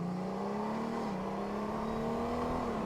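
A 2018 Honda Goldwing motorcycle engine pulls steadily under acceleration, a loud continuous drone rising slowly in pitch with a brief dip midway, close and sustained with no talk over it.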